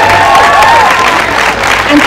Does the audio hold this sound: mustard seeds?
no